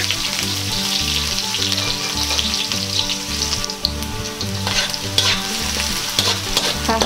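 Ginger and onion sautéing in hot cooking oil for a beef and mushroom dish, a steady loud sizzle with spatula stirring scrapes throughout and a low rhythmic hum beneath, no voices.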